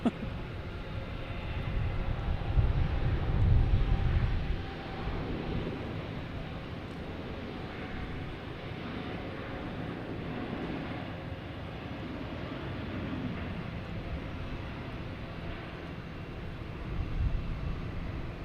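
Jet airliner taking off at Boston Logan Airport, a broad engine roar that peaks early then holds as a steady distant rush with wind buffeting the microphone throughout.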